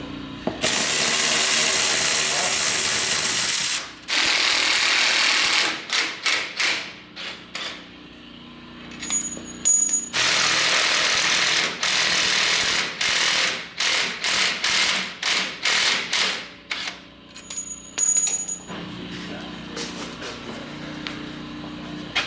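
Upper shock mounting nuts on a King shock bolt-on install are turned with an 18mm socket wrench: bursts of rapid ratchet clicking alternate with short pauses and a few metallic taps, close and loud, with no talking.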